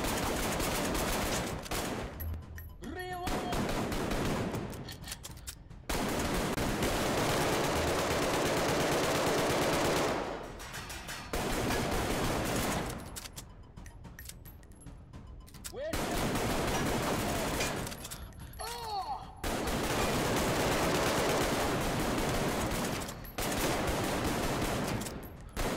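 Bursts of rapid gunfire in the VR video game Arktika.1 rattle loud and close in long sustained volleys, broken by several short pauses, with a voice talking now and then between shots.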